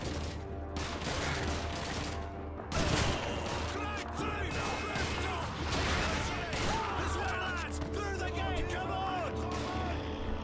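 Call of Duty 2 gunfire in the Matmata level: rapid rifle and machine-gun shots crack near and far over a constant battle rumble, mixed with shouting voices throughout.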